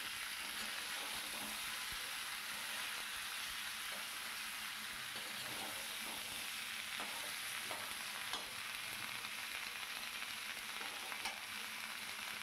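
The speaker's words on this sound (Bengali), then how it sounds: "এবার ওপর নিচ সুন্দর করে নেড়ে চেড়ে নিতে হবে।" Ridge gourd and mung dal fry in a pan while being stirred, a constant soft sizzle with faint scraping of the spoon throughout, no voices.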